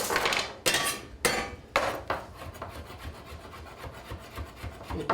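A knife shaves through a tightly rolled stack of leaves on a wooden board, giving four crisp, rasping strokes in a steady rhythm before fading into quieter, softer cutting.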